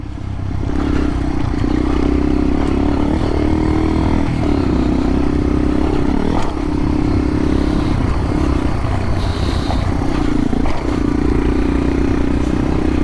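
A dirt motorcycle riding over small jumps on a trail, with a loud, continuous close engine drone and occasional rattles and clatters from the bike and terrain.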